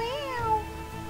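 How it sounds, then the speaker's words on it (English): A cat meows in the video game Final Fantasy VII, a short sustained electronic-sounding cry lasting about a second over a soft steady game backdrop. "this cat here is sleeping right in front of the staircase"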